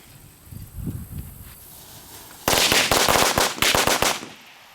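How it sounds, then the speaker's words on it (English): After a quiet stretch with faint rustling, a string of Black Cat firecrackers erupts in a rapid, loud crackling burst of pops that ends abruptly. "Now we have the Black Cat firecrackers."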